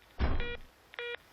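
Two short electronic telephone dialing tones, one after the other, clean and fairly loud, preceded by a brief click.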